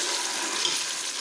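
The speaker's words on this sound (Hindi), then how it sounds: "मैंने इसमें थोड़ा सा पानी ऐड किया है" Water is poured into moong dal frying in a pan, producing a brief, steady hissing rush that fills the moment without any speech.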